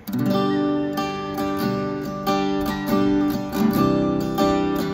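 A guitar in standard tuning is strummed repeatedly in a steady, rhythmic pattern of full chords, acoustic-sounding, close and moderately loud, with no voices.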